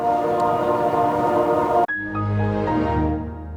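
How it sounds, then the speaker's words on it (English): A train rumbles past with a steady mechanical drone that cuts off sharply, followed by a lower lingering rumble as it continues by. "Hear that train?"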